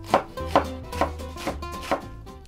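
Knife thinly slicing lettuce, tomato and red onion on a cutting board, five crisp evenly spaced chops, close and distinct with no talking.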